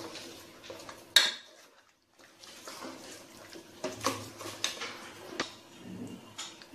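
Mutton korma being stirred in a cooking pot, with intermittent metal scrapes and clinks of a spoon against the pot, soft and close, with a brief quiet gap partway through.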